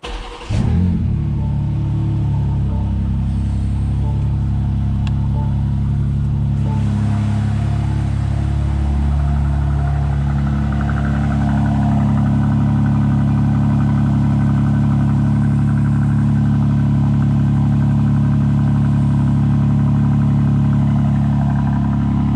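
A BMW M2 engine pulls away and keeps running, its steady low drone with rising revs holding close and loud for about twenty seconds, with no voices over it.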